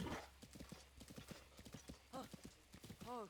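Horse hooves clip-clop in steady, rhythmic steps in Zelda: Breath of the Wild, close and clear, with a couple of short whinnies breaking in near the middle and end.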